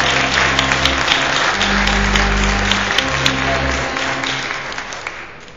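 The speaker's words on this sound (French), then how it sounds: "Applaudissez s'il vous plaît encore une fois," Congregation applause at a church pastor's ordination, a dense burst of clapping from a crowd over a sustained musical backing that tapers off toward the end.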